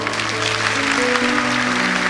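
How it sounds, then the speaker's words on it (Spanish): Congregation clapping during a church service, a dense wash of hands over sustained keyboard or organ chords and musical tones. "Dar un aplauso al Señor."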